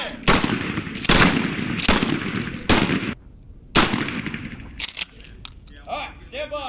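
Recon Marines fire shoulder-fired grenade launchers and shotguns outdoors, with five sharp, loud blasts at uneven intervals, each trailed by a short echo, as voices shout commands between shots.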